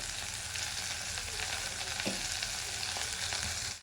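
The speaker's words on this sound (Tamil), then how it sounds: "நல்லா வதங்கட்டும்" Sliced bitter gourd sautés in a pan with a steady close sizzle of frying, broken by a faint scrape of stirring and heard alone.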